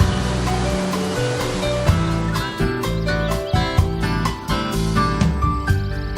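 Glacial meltwater of the Kicking Horse River gushes through a hole bored in limestone at Natural Bridge, a loud, steady roar with music playing over it throughout.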